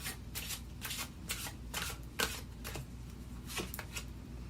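Tarot cards being shuffled and drawn at close range, quiet riffling bursts in an irregular rhythm with a soft card snap partway through.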